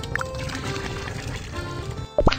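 Water pours in Little Panda's Farm Story, a short run of gurgling liquid under cheerful game music, ending in a quick rising chime.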